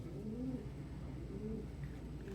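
Pigeons coo in low, rolling, repeated phrases over a steady background hum, with roughly two cooing calls across a short stretch and no talking.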